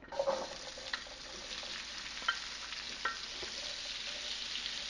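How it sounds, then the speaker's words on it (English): Onions sauté in a hot pan for potato bacon soup, a soft, even sizzle with a few spoon scrapes and clinks near the start, fairly quiet and with no talk. "we'll just saute it around until they get nice and translucent and when they get soft"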